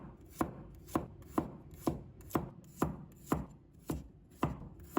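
A knife slices garlic on a cutting board in about ten sharp, evenly spaced chops, close and crisp, with quiet pauses between each cut.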